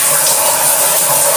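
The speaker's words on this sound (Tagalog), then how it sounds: "Lakas ng tubig. Yan. So, sa gripo." Strong, high-pressure water rushing from a household faucet, a loud steady hiss with no pauses, close and alone.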